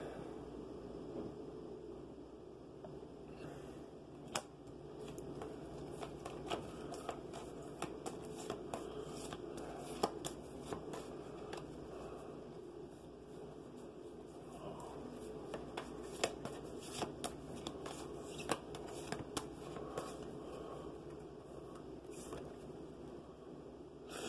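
Oracle cards are shuffled and picked, giving a steady soft riffling rustle with small crisp snaps and flicks scattered throughout, close and fairly quiet.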